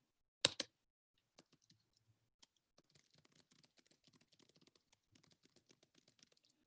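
Keys on a computer keyboard tap quietly in quick, uneven runs after a single louder knock at the start, close and faint with no talk.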